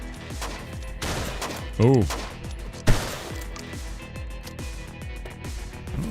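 Gunfire from a video game fires in a steady run of repeated shots, loud and continuous across the stretch, with a brief voice breaking in near the start.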